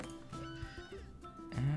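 Blocky Minecraft sheep bleat in short, wavering cries over quiet game ambience, the last bleat louder and closer.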